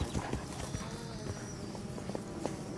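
Horse hooves clip-clopping over ground during a 160 km endurance race, a steady rhythmic series of muffled strikes at moderate distance amid outdoor background noise.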